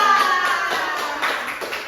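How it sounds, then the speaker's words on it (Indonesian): Applause from a small group in a primary school civics lesson, a short burst of clapping that fades quickly, with faint voices around it. "Tepuk tangan dulu, Pak."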